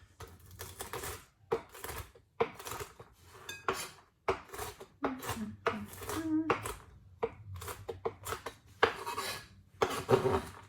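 A knife rough-chopping pecans on a board, rapid irregular clacking cuts in quick bursts, close and fairly quiet, with a voice talking over the chopping.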